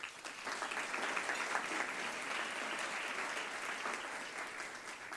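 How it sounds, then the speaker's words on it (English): An audience applauds its sponsors at a community event, a full, even wash of many hands clapping that starts promptly and stays steady through the whole stretch. "A big round of applause, please, for our sponsors"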